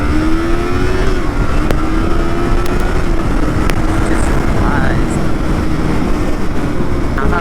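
A motorcycle engine held at 6,000 RPM at full throttle in second gear, merging downhill, with a loud, steady high-pitched drone and rushing wind noise, continuous throughout.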